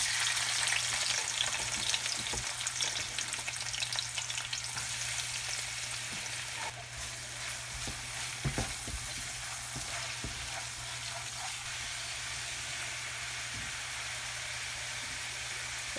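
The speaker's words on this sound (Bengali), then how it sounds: "প্রথম তেলের ভিতর পেঁয়াজ দিয়ে দেই" Onions frying in oil in a pan on a stove while cooking broken rice with vegetables, a steady dense sizzle throughout with a few soft stirring knocks, close and alone without talk.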